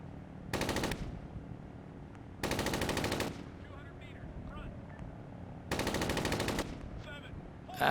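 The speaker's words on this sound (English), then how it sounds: "Fire another round just off to the side." Automatic gunfire in the military video game Arma 3 comes in three sustained rapid bursts, each about half a second to a second long, loud against a low engine-like background hum.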